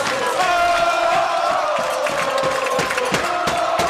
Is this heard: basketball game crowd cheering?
yes